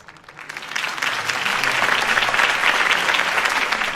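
A crowd at a campaign speech in Batman: The Telltale Series applauds steadily, the clapping swelling quickly and holding as a dense, loud wash of many hands.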